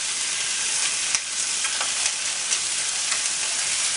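Pork chops browning in a hot frying pan for Italian-style chops, giving a steady, loud, dense sizzle with a few faint pops throughout.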